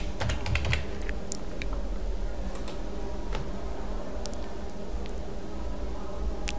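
Typing on a computer keyboard while entering a search in Google Chrome: a steady run of close, rapid key clicks and taps over a constant background hiss, with no voices.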